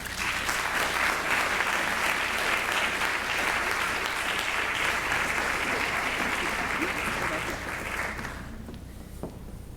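Audience applause in a lecture hall after a speaker's introduction at an art-history talk, a steady wash of many hands clapping that fades out near the end, leaving a quieter room.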